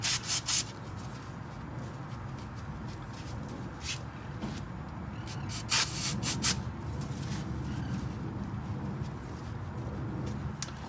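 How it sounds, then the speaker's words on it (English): Aerosol brake cleaner hisses onto the brake of a Lexus LX 570 in short bursts at the start and middle, with a continuous rubbing, scrubbing noise running close underneath. "Go ahead and take my brake cleaner and clean that off one more time."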